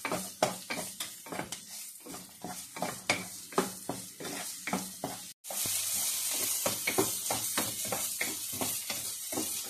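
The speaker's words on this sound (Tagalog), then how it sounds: "Yan, gigisa lang natin yan." Garlic, ginger, bird's eye chilies and green chilies are stirred in a pan for tofu sisig with steady, rhythmic scraping strokes. Midway a loud, continuous sizzle bursts up and carries on under the stirring.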